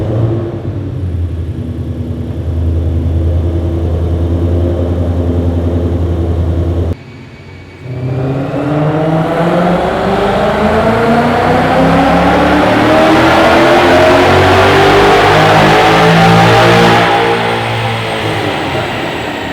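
A Ford Mustang HPDE track car with fresh engine work, running on 93 octane and strapped to a dyno, idles with a low steady drone, dips briefly, then revs in a long climbing pull that holds loud to the end.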